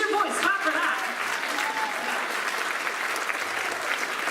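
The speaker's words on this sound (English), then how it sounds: "Clap for that." Audience applause fills a political campaign speech, a dense steady clapping from a crowd that carries on evenly throughout, with faint voices mixed in at the start.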